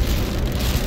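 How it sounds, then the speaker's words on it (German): Heavy rain pours steadily during a severe storm, making a dense, loud, unbroken wash of noise with no voices heard. "Wie man sehen kann, der Regen wird stärker wieder."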